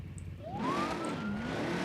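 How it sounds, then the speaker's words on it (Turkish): A police car siren wails, its pitch sweeping up and holding high over steady traffic rumble, fairly close and loud. "sirenleri çalıyor"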